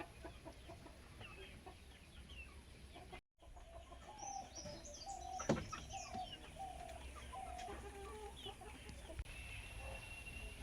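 Free-roaming desi chickens in a village yard make soft intermittent clucks and coos at a moderate distance over quiet outdoor background, with a brief dropout early on.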